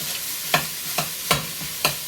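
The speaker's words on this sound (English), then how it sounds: "I'm going to go ahead and get my hamburger meat in here because my skillet is good enough" Hamburger meat browning in a skillet, a steady close sizzle broken by four sharp utensil scrapes or taps at a quick, roughly even pace, with no voices.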